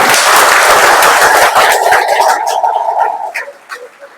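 An audience at a meeting claps loudly together in a dense, steady burst that thins out and fades over the last second or so.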